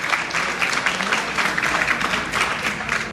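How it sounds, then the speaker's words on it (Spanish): An audience at a regional history lecture at a university breaks into steady, dense applause that stays loud and even throughout, with no speech on top. "De un aplauso, pues."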